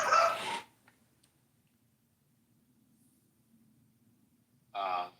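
A dog gives two short barks indoors, one at the very start and another near the end, with a long quiet stretch between them.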